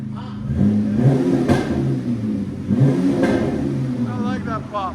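Ram 1500 with a 3.6L V6 and aftermarket exhaust, resonators and muffler removed, revving hard twice with rising engine roar and a pop, loud and close, while people talk over it.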